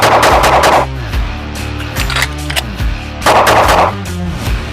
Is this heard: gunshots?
yes